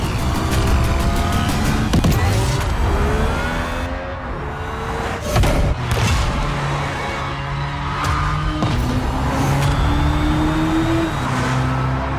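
A Hyundai IONIQ 6 N, a 650 hp high-performance car, roars loudly and accelerates hard. Its rising engine-like note climbs repeatedly through gear shifts and stays close and continuous throughout.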